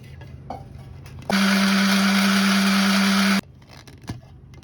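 An electric blender whirs through milk for cold coffee, a loud, steady motor drone lasting about two seconds before cutting off abruptly, with quiet handling noise before and after and no speech.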